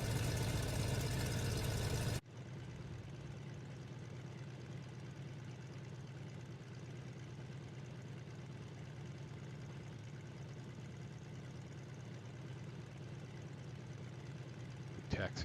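Boeing PT-17 Stearman biplane engine idling near 600 RPM in the MSFS 2020 flight simulator, a steady low rumble running evenly for most of the clip after a louder opening burst, with light background noise.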